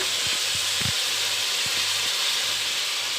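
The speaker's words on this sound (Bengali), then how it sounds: "আর এখানে মটরে দেবো পনির, তার জন্য পনিরটা ভাজছি।" Paneer frying in oil in a home kitchen pan gives a steady, dense sizzle and hiss throughout, with a few soft low knocks underneath.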